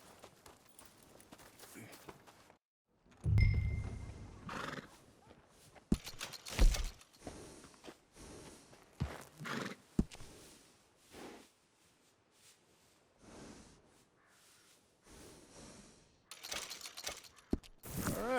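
Horse hooves clop on the ground in Red Dead Redemption 2, with irregular footfalls, tack rattles and occasional louder thuds spread across a quiet stretch, no neigh clearly standing out.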